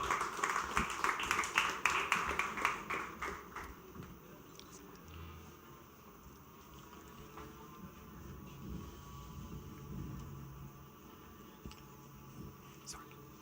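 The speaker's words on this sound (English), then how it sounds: "Big round of applause for Manoj Ladwa." An audience at the India Global Forum in Mumbai applauds, a dense burst of clapping loudest in the first few seconds and then tapering off into a low, murmuring room hum.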